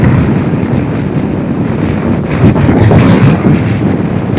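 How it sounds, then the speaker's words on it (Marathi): Strong wind blasts over a microphone on a motorbike riding through open fields on a Gujarat road. A loud, continuous rough roar of wind buffeting rises and falls slightly with no voices. "यहाँ पे या ओपन फील्ड्स मुळे ना खूप जास्त विंड ब्लास्ट आहे"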